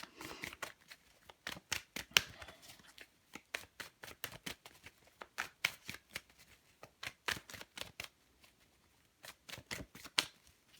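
Rapid riffling of a tarot deck being shuffled, crisp papery bursts repeating in quick clusters with brief pauses, close up and with no talking.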